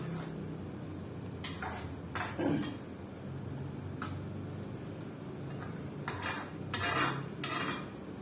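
Metal clatter as a lid goes onto a cooking pot of hilsa mustard fish curry: several sharp clinks and scrapes in short clusters, fairly close, over a soft background, with no talking.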